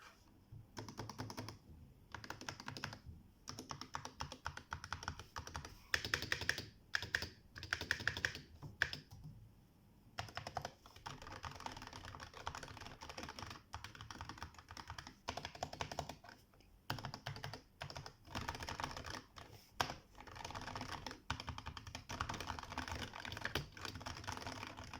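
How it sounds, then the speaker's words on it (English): Continuous typing on a Razer Huntsman Tournament Edition mechanical keyboard, rapid close-up key clacks in bursts with brief pauses, heard alone without any talk. "The typing test, to see how it sounds."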